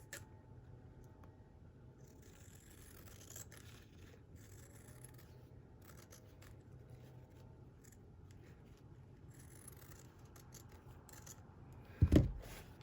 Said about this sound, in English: you just trim very close